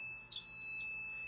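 Short electronic beeps from a fire alarm panel, a sharp high tone followed by a softer repeat, over a steady low hum.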